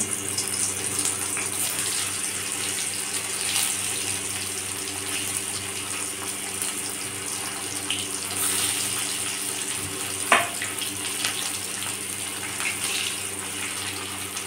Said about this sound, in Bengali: এই তেলেতেই আমি আলু ভেজে নেব।